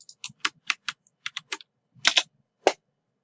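Someone types a web address on a computer keyboard in a quiet room, with a run of crisp, close keystrokes in uneven bursts and two louder key presses near the end.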